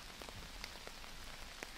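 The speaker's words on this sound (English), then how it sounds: "There is a thunderstorm and rain is falling" Rain patters on a tarp tent in a deep forest during a thunderstorm, a dense, steady hiss with scattered sharper drop taps, faint and close, with no talk.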